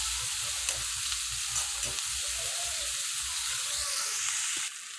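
Tomatoes sauté in hot oil for a gavar gravy, giving a loud, constant frying hiss with low stirring scrapes beneath, close by and without talk, dropping off abruptly at the end.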